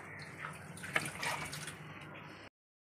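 Water trickles and drips as grated vegetables are squeezed by hand over a bowl, a soft, close splashing that swells briefly near the middle before cutting off.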